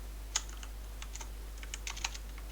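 Typing on a computer keyboard, quick irregular clicks of keys at close range, alone with no voice over them, in bursts spread across the stretch with a steady low hum underneath.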